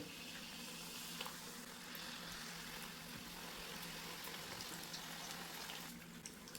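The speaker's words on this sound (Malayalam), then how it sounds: "ഇനി ഇത് ഫ്രൈ ചെയ്തെടുക്കാം ഓയിൽ നന്നായിട്ട് തന്നെ ചൂടായിട്ടുണ്ട്" Mini samosas fry in hot oil over a low-to-medium flame, giving a faint, steady bubbling sizzle that carries on evenly without pause, with no talking.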